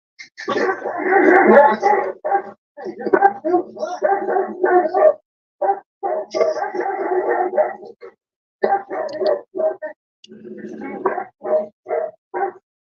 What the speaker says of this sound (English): I got a Rottweiler here.